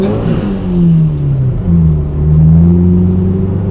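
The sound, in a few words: Subaru Impreza WRX STI engine accelerating on ice track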